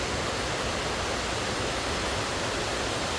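A continuous broadband roar of falling water rushes steadily and evenly from a waterfall, with no voices.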